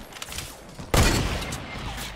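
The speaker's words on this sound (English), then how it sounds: "Auto sniped me twice in a row, dude." Gunfire erupts in a Fortnite Battle Royale duos match: one sharp, loud blast from an automatic sniper rifle, followed by a rumbling tail and faint background game noise.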